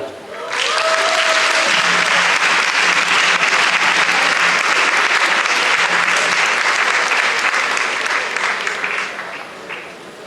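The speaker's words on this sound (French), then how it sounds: "je vous demande d'applaudir la chorale" Audience at a French-language church partnership service applauding the choir, a loud, sustained burst of clapping that swells quickly, holds for several seconds, then tapers off.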